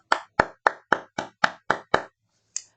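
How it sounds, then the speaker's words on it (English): Hands clapping nine times, eight crisp evenly spaced claps in quick rhythm, then a pause and one last lighter clap, close and clear in a quiet room. "I'm clapping hands for you also"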